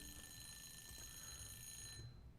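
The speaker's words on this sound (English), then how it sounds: "there goes my timer to take a break" A study break timer alarm rings steadily with bright, sustained electronic tones for about two seconds, then cuts off, leaving low room rumble.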